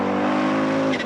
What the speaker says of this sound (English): it was Hannu Mikkola, with his Audi's wastegate chattering happily away.